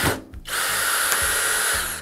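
A power drill drives a screw into a wooden batten with no pilot hole, a steady close whine running almost two seconds after a brief start.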